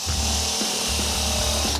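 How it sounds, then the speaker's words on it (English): A power drill whines steadily at close range as it drills out a wooden dowel, its pitch dipping briefly under load. "We can then just drill that out"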